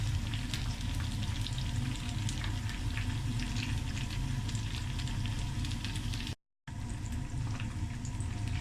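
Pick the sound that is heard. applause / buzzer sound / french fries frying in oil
french fries frying in oil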